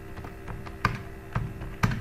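Keys on a computer keyboard click in a few sparse, separate taps over a quiet room hum, close by and with no voices.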